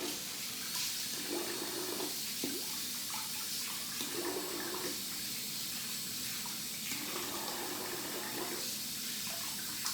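Tap water runs steadily into a sink as a shaving razor is rinsed, a continuous close splashing hiss with brief shifts where the blade passes through the stream, no voices.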